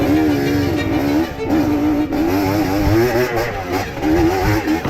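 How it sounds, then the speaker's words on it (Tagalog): A trail motorcycle setting off on a mountain trail ride, its engine loud and close with a wavering, rising pitch as the throttle opens, and no talk over it. "At nung maayos na yung isang motor ay umabante na tayo agad."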